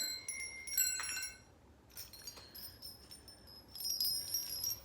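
Christmas bells on a decorative garland jingle and tinkle in bright, shimmering bursts, shaken close by with short pauses between, with no talking.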